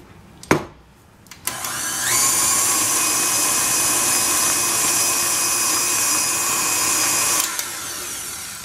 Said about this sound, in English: if you still feel a lot of sugar grains in your batter, you need to definitely let it mix for a while